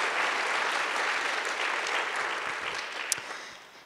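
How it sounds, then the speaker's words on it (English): Audience applause at a talk with author Roxanne Dunbar-Ortiz, steady clapping from a sizeable crowd that holds for several seconds before tapering slightly. "should we clap?"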